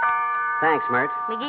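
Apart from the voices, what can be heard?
doorbell ringing, radio drama sound effect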